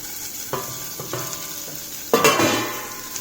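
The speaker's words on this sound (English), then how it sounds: "Let us first fry the paneer." Paneer cubes fry briefly in ghee in a kadai, a soft sizzle with a few stirring scrapes and a louder burst of hissing near the end.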